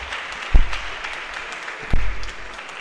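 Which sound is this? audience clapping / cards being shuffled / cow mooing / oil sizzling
audience clapping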